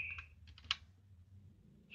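Quiet, close keystrokes on a computer keyboard, a few scattered taps and short bursts of typing spread over two seconds, with no talking.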